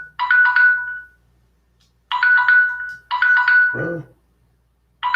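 A phone ringtone plays in short repeated bursts of bright electronic tones separated by silent gaps, with a brief low thump near the end of the third burst and another ring just starting as it closes.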